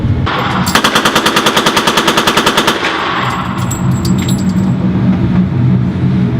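A machine gun fires a long, rapid burst of roughly two dozen loud, evenly spaced shots at close range, followed by a rumbling, echoing tail.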